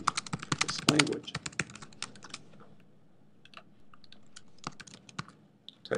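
Close computer keyboard typing in the Komodo IDE code editor, a quick burst of rapid clicks at first, then sparser single keystrokes with pauses, and no speech.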